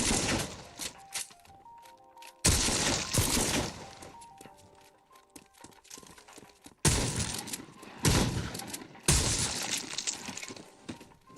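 Video game gunfire in a sniper match, loud broadband bursts of shots and impacts arriving in several heavy clusters with quieter stretches between.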